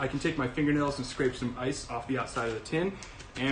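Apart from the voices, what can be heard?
No distinct noise like a dog, phone or traffic.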